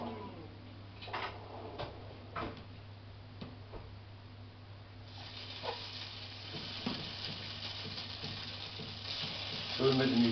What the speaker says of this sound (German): und lassen die kurz anbraten in dieser Butter.